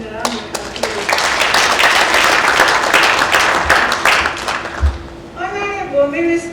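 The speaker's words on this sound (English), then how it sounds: "Let us give them a round of applause." An audience at a hospital foundation stone laying ceremony breaks into loud, sustained applause of many hands clapping together, then it fades near the end as a voice begins to speak.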